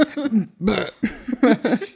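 A man imitates a string of burps with his voice: a few throaty, belch-like bursts in quick succession, close and loud, separated by short gaps.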